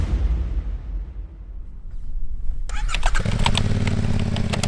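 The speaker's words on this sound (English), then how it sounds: "You fire up the engine and the growling noise can be heard from its exhaust." A CFMOTO 450MT small twin-cylinder motorcycle engine cranks and fires up, settling into a loud, growling exhaust idle close by after a brief quiet start.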